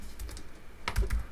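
Computer keyboard keys typed while writing Processing code, a handful of quick close clicks in two short bursts, quiet and alone.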